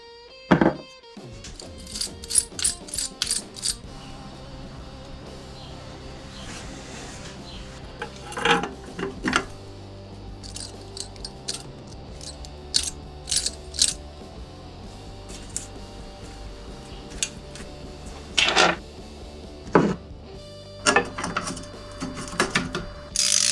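Nuts are fitted to secure the exhaust on a Triumph Tigress scooter under restoration, giving scattered metallic clicks, ratcheting and clinks of parts handled close by, with quiet gaps between bursts.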